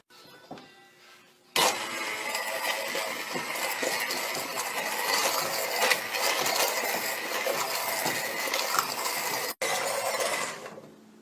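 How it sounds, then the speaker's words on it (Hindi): A kitchen grinder whirs loudly and steadily after a brief start-up, blending cooked lentils for a sweet chutney, then cuts out near the end. "हीट बंद कर लेते हैं और इनको ग्राइंड कर लेते हैं।"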